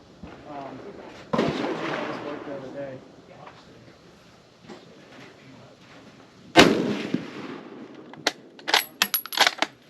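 Two loud 8mm rifle shots from a Czech VZ-24 Mauser ring out at an outdoor range, the first at about one and a half seconds and a sharper one near six and a half, followed by a quick run of clacks and bolt or brass sounds, with voices talking faintly between them.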